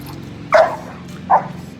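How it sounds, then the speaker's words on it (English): Dog barking outdoors in a garden setting, two short sharp barks about three quarters of a second apart, fairly close and clear over a low background hum. "The dog's going crazy."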